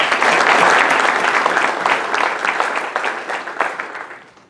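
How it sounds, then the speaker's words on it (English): Applause for a panel of three at a forum, loud and close, a dense burst of clapping that holds steady and then tapers off toward the end. "So a big round of applause to all three of you"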